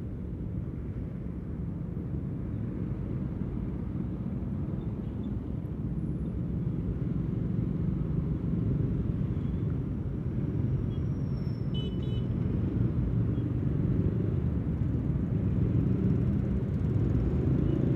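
Stuck in a morning traffic jam of cars and motorcycles on a road heading toward East Jakarta, a steady low engine rumble and road noise fills the scene continuously, without talking.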